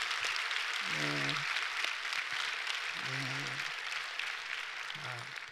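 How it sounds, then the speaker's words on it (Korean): Steady applause from a large church congregation at a Sunday worship service fills the whole stretch, with a voice speaking over it a few times. "우리 박수 한번 하겠습니다"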